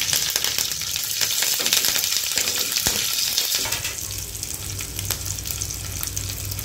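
Hot oil crackles and sizzles steadily as mustard seeds and green chilies fry for a dhokla tempering, with occasional sharp pops and a faint low hum underneath.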